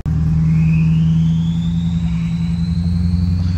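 A Duramax diesel truck fitted with Stainless Diesel five-blade drop-in turbos roars loud and steady, a heavy low drone with a rising turbo whistle sweeping upward across the whole stretch.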